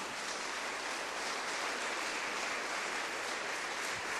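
A church congregation claps together in sustained applause during a Spanish-language worship service, a steady, dense wash of hand claps that fills the whole stretch evenly without pauses.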